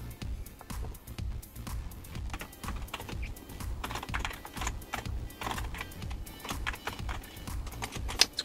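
Typing on the keyboard of a Commodore Amiga 1000 computer: a steady run of close, dry key clicks with uneven rhythm and no talk.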